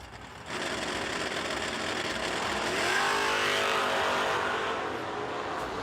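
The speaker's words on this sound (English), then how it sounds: "The Firebird in and out of the throttle at the finish line." Drag racing cars, a Chevrolet Malibu and a Pontiac Firebird, roar past at full throttle. A loud, sustained engine wail begins abruptly and rises in pitch before easing slightly, heard from a distance at the track.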